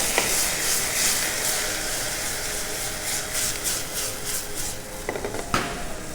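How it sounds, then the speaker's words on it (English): Wine poured into a hot pan of mushroom risotto sets off a loud, steady sizzle and steamy hiss, with a few sharper crackles near the end. "I'm adding the wine."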